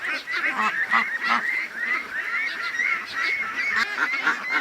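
Ducks calling in a dense, overlapping chorus of honking quacks, continuous and fairly close, with no voices.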